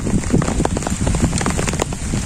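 Rain falling steadily in a village, a dense close patter of drops on surfaces with some wind noise, continuous and even throughout.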